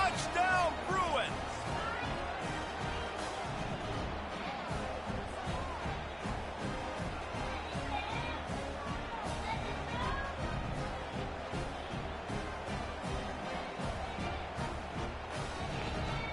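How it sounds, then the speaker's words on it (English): A packed stadium crowd cheers and roars without pause in the college football video game NCAA 25, a dense wash of noise under constant talking voices. "this crowd's been going crazy"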